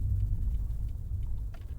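A car engine in a driving video game gives a steady, low, rumbling drone that holds evenly throughout, with no voices over it.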